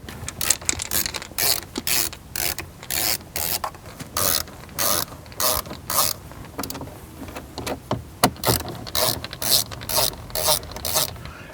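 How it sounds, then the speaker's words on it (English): Screws being backed out of a Jeep Wrangler JL dash panel around the window switch panel and factory radio bezel, heard as a close, repeated ratcheting and scraping in short bursts with no talk. "there's three screws that we need to remove"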